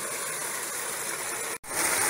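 Creek water flows steadily near a ram pump supply line, a constant close rushing wash that cuts out briefly and returns slightly louder.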